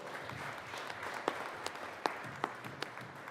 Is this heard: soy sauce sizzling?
no